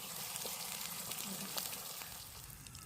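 A large chopped tomato with onions cooks in a pan, giving a continuous low sizzle and bubbling hiss at a steady, fairly faint level with no pauses.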